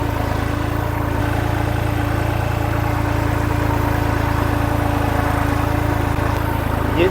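A four-wheel-drive diesel tractor works a field being readied for paddy, its engine droning steadily and loudly under load with a constant low rumble throughout.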